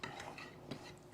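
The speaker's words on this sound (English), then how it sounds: "I'm going to get my little whisk and whisk this up and get it all mixed up" A small whisk stirring salt into seasoned flour in a bowl, a brief stretch of quick scraping and light clinking, close and soft, with nothing else heard.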